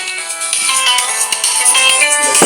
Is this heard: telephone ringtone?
yes